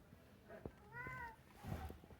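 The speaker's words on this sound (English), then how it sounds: "Cat probably wants to eat." A hungry cat meows once at close range, a drawn-out rising and falling call, among faint soft household noises and quiet background sound.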